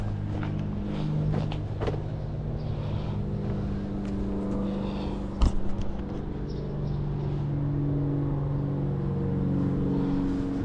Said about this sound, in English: Yeah, so this is when I'm revving it.